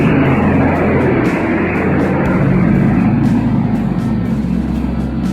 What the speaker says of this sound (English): Now planes are going overhead.